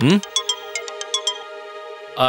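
A phone ringtone for an incoming call from the chief minister, a short bright melodic run of repeated tones played loud and close, cut off by a voice at the end.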